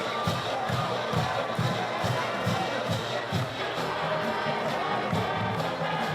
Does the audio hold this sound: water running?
no